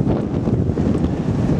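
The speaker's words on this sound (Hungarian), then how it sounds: "A szél az brutál erős" Strong, steady wind roars and buffets the microphone continuously along a riverside cycle path, loud and unbroken with no voices.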